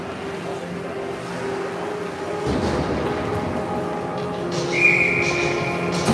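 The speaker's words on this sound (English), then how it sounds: "Long shot that Malone will hang on to for the whistle." Referee whistle at a U13 ice hockey game: a single short, shrill blast sounds partway through over steady arena crowd murmur and rink noise.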